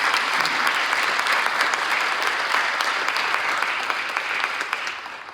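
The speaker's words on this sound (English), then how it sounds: "let's give them a big round of applause for showing up tonight" A packed audience at a county commissioner candidate forum breaks into sustained, dense clapping that holds steady for several seconds, then begins to thin and fade toward the end.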